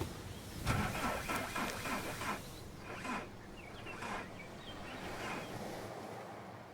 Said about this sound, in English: Yeah, the engine's kind of busted.